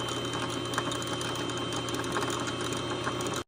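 Sewing machine winding a bobbin, a steady continuous whirring motor hum, close and even in speed, running without talk until it stops abruptly at the end.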